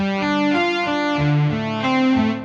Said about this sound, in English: as soon as you add that bit of reverb